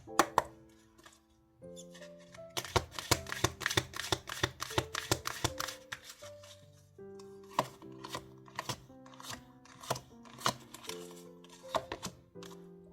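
Tarot cards are shuffled by hand in bursts of quick, crisp riffling clicks and soft taps, close by, over gentle background music with sustained tones.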